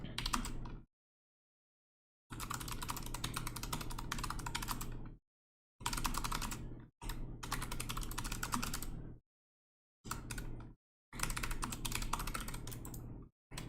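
Someone types notes on a computer keyboard in several dense bursts of rapid key clicks, with short silent pauses between the bursts. The typing is close and clear, and no one speaks.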